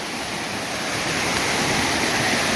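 Forney Creek rushes beneath a bridge in the Great Smoky Mountains, a dense, continuous broadband roar of flowing water that holds steady and close throughout.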